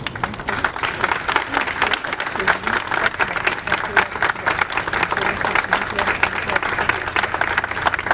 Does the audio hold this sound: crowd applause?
yes